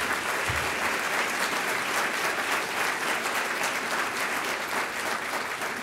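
A keynote audience at a 2014 land conservation conference applauds steadily, a dense sustained wash of clapping with no voices over it.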